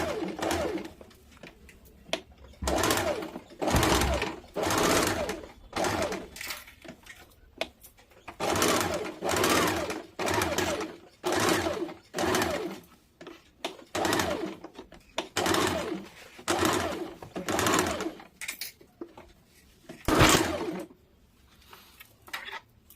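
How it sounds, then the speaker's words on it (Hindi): Sewing machine stitching net fabric and lining together for a baby frock, bursts of fast whirring stitching that start and stop repeatedly, close and steady, separated by short pauses. "अब मैं नेट कपड़ा और अस्तर तीनों को एक साथ सिल लूँगी।"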